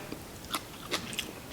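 Three crisp crunchy bites of watercress, close and fairly quiet, spaced about every half second with soft chewing between.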